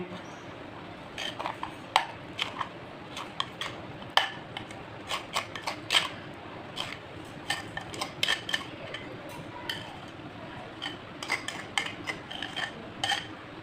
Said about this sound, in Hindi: इसे अच्छी तरह मिक्स कर लेंगे, मिला लेंगे।